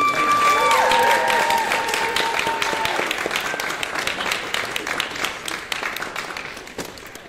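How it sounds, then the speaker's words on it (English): Audience at a steampunk convention panel on compliment dueling applauds the finalists: a loud, dense burst of clapping and crowd noise that tapers off over several seconds, with a few faint voices mixed in. "A round of applause for our finalists."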